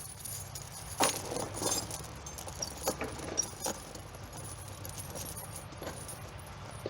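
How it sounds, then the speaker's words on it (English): A metal tire chain is laid over a lawn tractor tire, its links jangling and clinking in soft, irregular bursts close by, fairly quiet, with no voices. "So the first thing to do is to lay out your chain over the tire."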